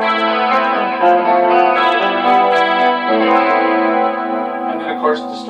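An electric guitar through a DigiTech RP500 and two Alto TS110a speakers rings out sustained chords with a shimmering, swirling chorus effect, bright and close, fading slightly at the end.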